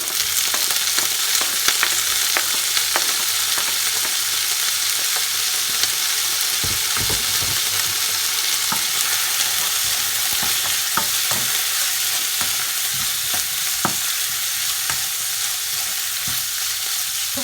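Chicken frying in a pot with browned onion and garlic for Tibetan chicken thukpa, a constant close sizzle broken by frequent clicks and scrapes of stirring.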